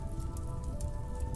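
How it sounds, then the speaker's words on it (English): Steady rain falling in the colony-sim game RimWorld (Alpha 12), a dense continuous patter over low rumbling ambience with a faint tonal hum beneath, no voices. "the rain has finally came and saved us."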